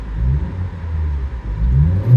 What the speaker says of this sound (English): it doesn't have a problem revving up all the way